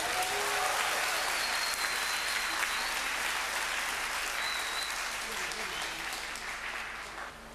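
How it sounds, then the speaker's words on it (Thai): Concert crowd at a Thai 15th-anniversary live show applauds in a dense, sustained roar of clapping with scattered cheers and whistles, starting loud and easing slightly toward the end. "ขอเสียงปรบมือให้อาจารย์ธนิตศรีกินดีครับ"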